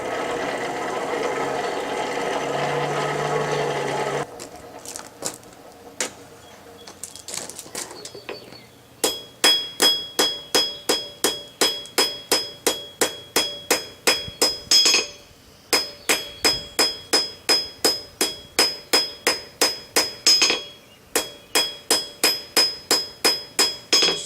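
A forged grilling fork made from a rusty nail is hammered to chamfer its corners: after a stretch of rushing noise, steady rapid bursts of ringing metal strikes follow one another, loud and close.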